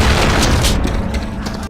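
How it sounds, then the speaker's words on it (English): Quad-barreled shotgun firing in the video game Gore: Ultimate Soldier: a single heavy, booming blast that rolls off into a short fading tail. "This quad-barreled shotgun is just plain awesome"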